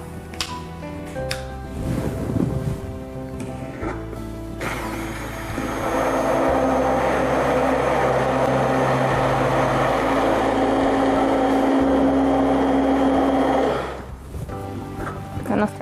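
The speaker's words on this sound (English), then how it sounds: "We make use of an immersion blender to mix everything well." Immersion blender mixing a gelato base, a sustained steady whirring drone for several seconds after some handling noises, then winding down.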